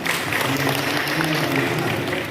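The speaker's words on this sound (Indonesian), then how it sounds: "Bu Fitria, terima kasih banyak atas tepuk tangan yang meriah." Steady, dense applause from an audience at a BKKBN East Java event on stunting in Jember, continuous and fairly loud for the whole stretch with a faint hint of voices beneath.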